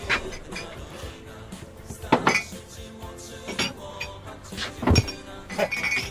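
Glasses and dishware clinking and knocking as drinking glasses are handled indoors, a few sharper clinks standing out over low background clatter, with brief voices nearby.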